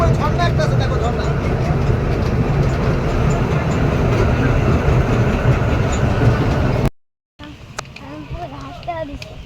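A passenger train rolls steadily under a dense, low mechanical rumble heard from inside the carriage, then cuts out for a moment and returns with voices talking over it.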